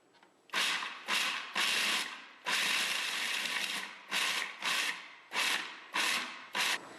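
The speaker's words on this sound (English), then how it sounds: "So here I've just added the almonds into the food processor and ground them up a little bit so they're coarse" A food processor grinding almonds into a coarse meal runs in about ten short, loud pulses, each a harsh whirring crunch of roughly half a second with brief gaps between, close and with no talking.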